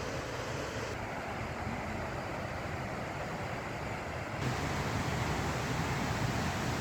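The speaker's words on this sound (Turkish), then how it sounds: "Şu anda hava biraz kapalı olduğu için dere bu şekilde görünüyor. İşte şelale burada." A creek and the Çiseli waterfall on Perşembe plateau in Aybastı, Ordu, Turkey rush in a constant, loud broadband roar, steady throughout and swelling slightly partway through.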